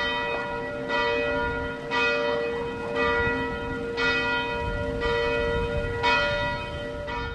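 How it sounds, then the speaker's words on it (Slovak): Church bells of the Divine Heart church in Holíč ring at a memorial gathering, a steady repeated toll about once a second with long humming overtones, clear and sustained with no voices. "Počas spomienkového stretnutia sa o 11. hodine a 11. minúte rozozneli zvony kostola Božského srdca v Holíči."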